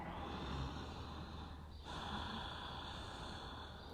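Strong, amplified yogic breathing, a forceful nasal inhale and exhale with a brief pause in the middle, close and steady.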